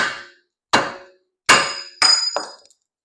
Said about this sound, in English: I'm gonna hammer it from this side.